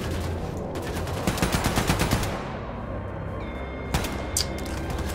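Rapid automatic gunfire in the shooter game Wolfenstein II: a loud, fast machine-gun burst, then a short pause and a few more scattered shots.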